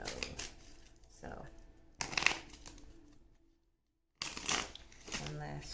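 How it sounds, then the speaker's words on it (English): Tarot cards are shuffled by hand in several crisp riffling bursts separated by pauses and a brief silent gap, with a voice speaking softly over the later bursts. "one last shuffle here"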